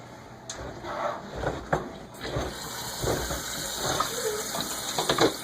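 A kitchen tap runs steadily close by while food is rinsed under it, with splashing that rises and falls as the food is moved through the stream.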